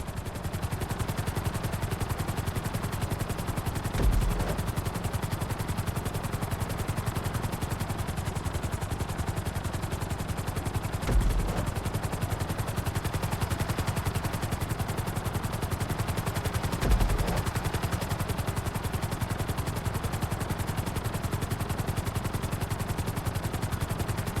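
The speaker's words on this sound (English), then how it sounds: "Bring the helicopter down gently onto the helipad." Helicopter rotor and engine drone in GTA V flight school, a steady whirring hum throughout with a few brief louder thumps, fairly quiet and continuous.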